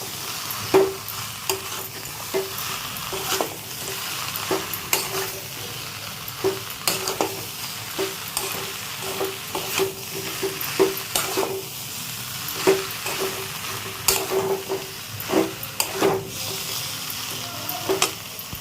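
Soya chunks fry and sizzle in a masala in a pan for a jackfruit seed curry, with a steady hiss broken by repeated scrapes and knocks of a spoon stirring the mixture, close up and loud.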